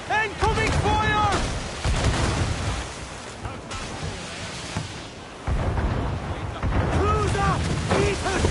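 Ship cannons boom in a naval battle from the Black Flag video game, heavy broadside blasts rolling over wind and surf, with shouted commands and voices cutting in between the salvos.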